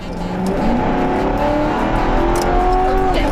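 A stolen police car drives off, its engine droning and revving steadily with a shifting pitch, loud and close throughout with no voices.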